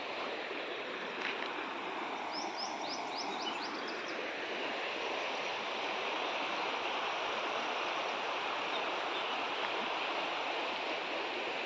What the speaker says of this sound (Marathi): बघा ना किती वाहतं पाणी आहे